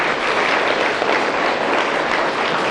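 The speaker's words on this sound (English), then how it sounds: "Give his heart a round of applause for his courage." Young schoolchildren at an assembly break into loud, dense applause, a steady wash of many small hands clapping at once, sustained and close without letting up.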